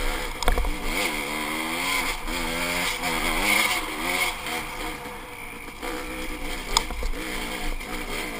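A dirt bike engine labours up a wet, rocky trail in a low, mellow gear, its revs rising and falling steadily and loud and close throughout, with no one talking.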